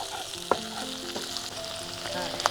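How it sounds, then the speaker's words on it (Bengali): Onions fry in a pan on a gas stove with a steady sizzle, broken by a couple of sharp clinks as a utensil stirs them, close and without talk. "গ্যাসটা একটু নিভিয়ে দিয়েছি, আবার জ্বালিয়ে দিতে হবে কারণ পেঁয়াজগুলো পুড়ে যাচ্ছিল"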